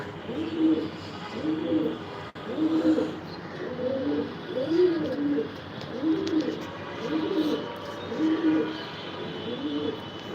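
Pigeons in a racing loft coo in a slow, regular series of soft, throaty calls, fairly close, over a quiet background hiss.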